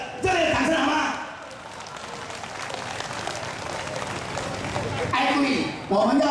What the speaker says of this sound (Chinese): 给我们的工作队伍一个热烈掌声好吗？